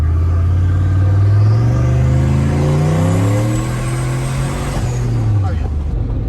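Turbocharged daily-driver car with a big muffler accelerating hard, its engine note climbing in rising harmonic sweeps through the gears over a deep, loud exhaust rumble, then easing off near the end.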